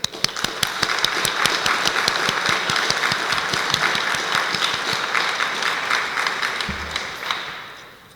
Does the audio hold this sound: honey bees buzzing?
no